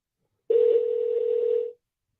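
A steady telephone dial tone follows a dropped call. It is a continuous, clear single tone lasting just over a second, then it cuts off, with no talking.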